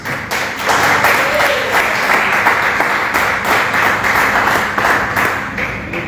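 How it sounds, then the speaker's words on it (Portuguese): A church congregation claps together in worship, a loud, close, steady patter of many hands with a rhythmic pulse running for about six seconds and no speech over it. "Aceitai-vos e glorificai a Deus com palmas."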